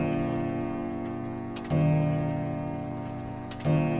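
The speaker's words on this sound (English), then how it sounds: "The clock." A loud ticking clock gives two heavy, resonant ticks about two seconds apart over a steady background hum.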